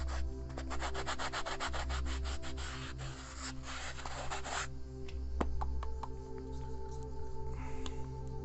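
A file rasps against a creative concrete piece in quick, close repeated strokes for several seconds, then stops, leaving quiet background with a few light taps and scrapes.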